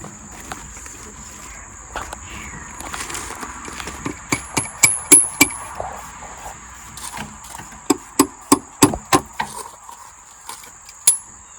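Sharp metallic taps and knocks come in quick irregular bursts, a hammer striking a screwdriver to pry glued-on trim off a 1993 Suburban, over a faint high whine in a quiet room.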